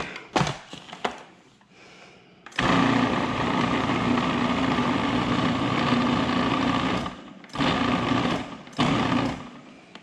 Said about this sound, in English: I don't want the food processor to have all the spinach on one side.